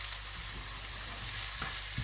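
Chopped onions frying in vegetable oil for a red curry with coconut milk, a steady soft sizzle running throughout with faint stirring clicks near the end.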